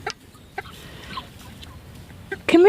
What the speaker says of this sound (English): They're Rhode Island Reds, which is what the rooster is.